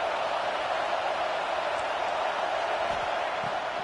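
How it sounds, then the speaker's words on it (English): Football stadium crowd at a Clemson vs Louisville game roars steadily as the defense lines up on third down, a dense, loud and unbroken wall of noise. "Decibels rising as the crowd gets behind this defense on 3rd down."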